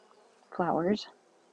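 Bees buzzing around a beehive beside flower plots in the farming game Wylde Flowers, a short close hum that swells for about half a second and fades, heard alone.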